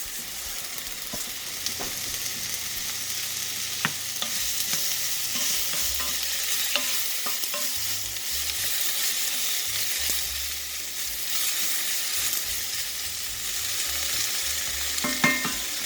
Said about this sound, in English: And put a little black mustard in.